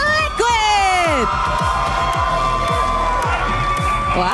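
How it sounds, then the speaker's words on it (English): Arena crowd at a Mobile Legends Bang Bang esports event cheering, whooping and shouting for Team Liquid, a loud sustained roar from start to finish, with an announcer's voice rising over it early on. "the crowd goes wild"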